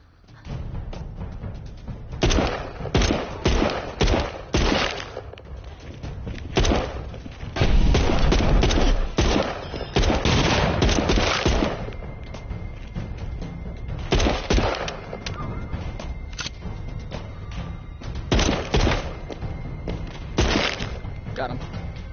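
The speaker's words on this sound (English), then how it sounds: "Alright, I'm gonna start firing, boys." Semi-auto gunfire in Walking Dead Saints & Sinners: repeated single shots and thuds crack out irregularly over twenty seconds, some close and loud, mixed with heavy background game noise and a voice talking at times.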